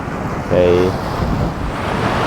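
Wind gusting over open water aboard a tour boat cruising around Zurich, Switzerland, a steady broadband rush with a brief louder surge near the start.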